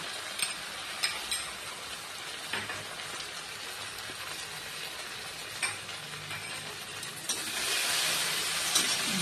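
Rice frying in butter in a pan: a soft, steady sizzle with occasional scraping and clicking from stirring, swelling louder toward the end, with no talking.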